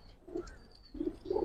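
Giribaz pigeons in a loft give faint, soft coos in a few short bursts, with a quiet pause between them and a low background hiss.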